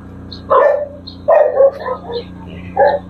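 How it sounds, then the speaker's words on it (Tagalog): Several dogs roaming loose at a resort bark in four sharp, close bursts over a steady low hum. "May mga aso rin na nakawala."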